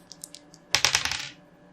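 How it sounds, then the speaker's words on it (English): A few light taps come first, then a handful of dice clatter and tumble across a table in a quick burst of sharp rattling clicks that fades out within about half a second, close up with no voices. "Let me just clear up a little space for me to roll some dice."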